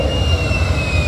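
Stock-engined Chevrolet SS Camaro on a chassis dyno at a motorsport park, giving a steady, loud engine roar with a low rumble and a faint high whine throughout.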